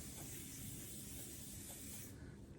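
A close, steady spray of John Deere grease from an aerosol can into a mechanism, hissing continuously for over two seconds before tapering off.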